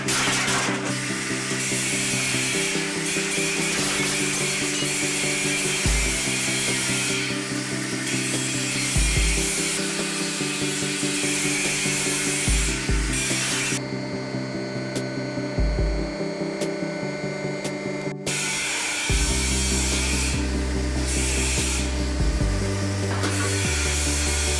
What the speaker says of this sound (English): This is the Forestry scrap baler. It uses 90 tons of pressure to compress bulky aluminum and stainless steel into dense, easy-to-transport bales